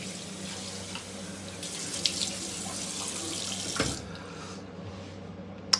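Cold water runs steadily from a bathroom tap for rinsing after a morning shave, a close, continuous splashing hiss that changes tone briefly near the end as the flow shifts, with no talking.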